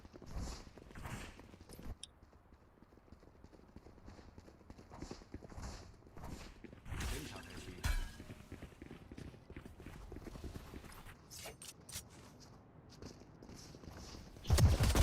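Character footsteps in the tactical shooter Valorant Mobile, during a competitive esports match, land as a run of quick, crisp footfalls at a steady walking rhythm, fairly close and moderate in volume, with sharper bursts of game noise breaking in and no talking.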